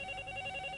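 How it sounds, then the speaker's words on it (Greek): A telephone rings with a brief, steady electronic tone, moderately quiet and heard alone without speech. "Τηλέφωνο. Το άκουσα. Σήκωσέ το."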